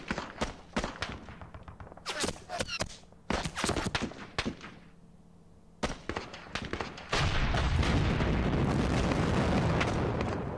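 Artillery firing in the wargame Panzer Campaigns Orel 43: a series of sharp, loud booming reports in irregular clusters, followed by a sustained roaring rumble of explosions, with no talking.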